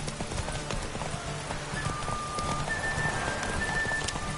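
Roach, the horse from The Witcher video game, gallops with hooves pounding in a quick, steady rhythm, set against a soft rain-like hiss and a few faint tonal game sounds.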